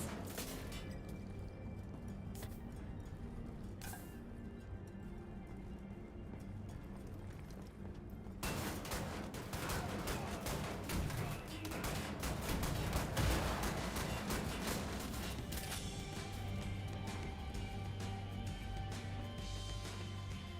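Gunfire with ricochet bullets in Wolfenstein The New Order builds from scattered sharp shots into a dense, loud barrage of rapid bursts and impacts. Heavy clatter and crashes follow, over a constant low game rumble.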